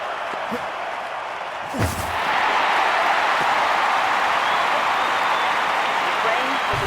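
Stadium crowd at the London 2012 Olympics applauding during the long jump, a broad steady wash of clapping that swells and holds loud after a brief thump, with a commentator's voice faintly over it.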